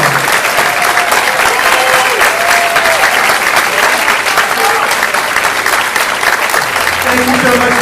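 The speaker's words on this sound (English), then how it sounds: "Let's give it a big round of applause." Sustained, loud applause from the audience at a school spring chorus concert for the Abington Heights 8th grade chorus, dense clapping filling the hall throughout, with cheering voices mixed in.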